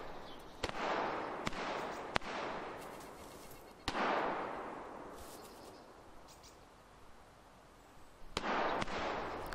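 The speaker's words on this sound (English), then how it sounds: "Shooting the zombies." Gunfire at zombies in the video game DayZ, with several sharp, loud shots spaced irregularly, each followed by a long echoing tail across open terrain.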